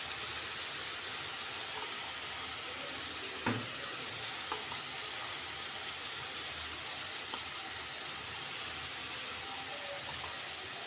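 Fenugreek greens with green chillies hiss and sizzle steadily in a frying pan as they are stirred, with a few faint utensil knocks against the pan over the continuous frying noise.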